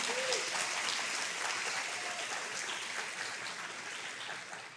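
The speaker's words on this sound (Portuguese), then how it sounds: "Se você crê nisso, aplauda o Senhor, amém?" A church congregation claps during a Portuguese sermon, a continuous even patter of many hands that holds at moderate loudness and tapers slightly at the end.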